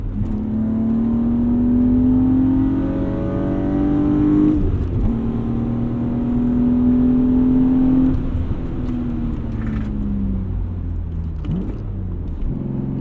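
A BMW E36 M3 accelerates hard through the gears, its engine note climbing steadily, dropping briefly at each shift, then rising again as it pulls, loud and close throughout with no talking.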